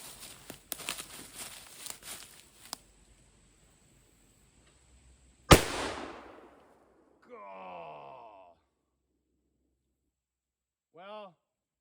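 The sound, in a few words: Uberti 1847 Walker cap and ball revolver firing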